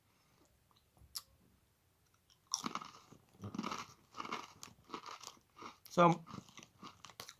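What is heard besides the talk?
biting and crunching Real McCoys crisps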